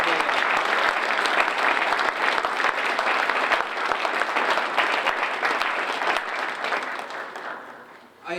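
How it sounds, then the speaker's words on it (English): Audience applause for award nominees and winners at an academic recognition program, a dense steady wash of many hands clapping that carries on for several seconds, then thins and fades toward the end. "So let's do a round of applause for all"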